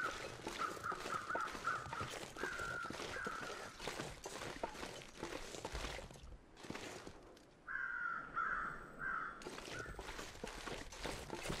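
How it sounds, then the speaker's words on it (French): Crows cawing in The Long Dark, repeated harsh caws in two clusters separated by a lull, over crunching steps and wind-like background, at mid distance. "Je vais voir si, pourquoi il y a des corbeaux là."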